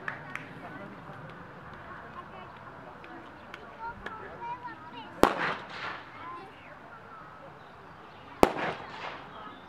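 Two sharp gunshots crack about three seconds apart during an obedience demonstration of Hontian hounds (Hontiansky tesár) working outdoors. Each shot is loud and abrupt over a low background with people talking.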